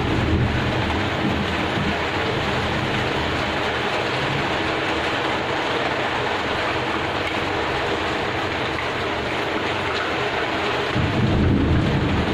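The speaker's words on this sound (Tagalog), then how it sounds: "lakas na ulan dito sa amin" Dense, roaring downpour fills the air continuously, a loud steady wash of rain with deep rumbling underneath.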